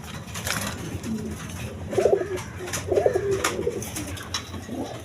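Cream-coloured pigeons coo several times in soft, throaty rolling phrases, spaced a second or so apart. Steady background hiss and faint clatter run underneath.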